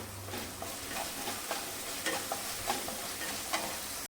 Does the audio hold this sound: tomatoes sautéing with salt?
yes